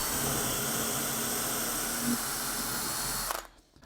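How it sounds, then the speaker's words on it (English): A power drill bores a hole through a drilling guide with a steady, loud whirring grind that runs continuously before cutting off abruptly near the end. "you can just keep drilling that hole until it's full depth"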